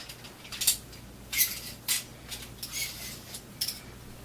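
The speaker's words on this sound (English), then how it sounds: "Wow, that scraping on that was annoying." Something gets scraped while being prepared, giving a handful of short, faint metallic scrapes and creaks in uneven bursts against a quiet background hum.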